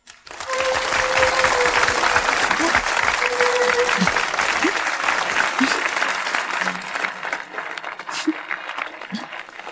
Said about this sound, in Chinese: 让我们用热烈的掌声欢迎